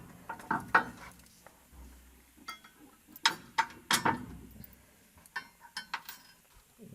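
A ratchet wrench tightens bolts and lock nuts on a car's front suspension bridge in quick, faint, close clicking bursts, with clinks of metal hardware between them.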